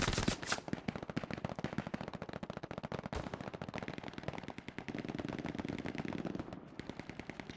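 Sustained bursts of machine-gun fire in Hell Let Loose, fast repeated shots rattling on and off for several seconds, with a louder crack near the start.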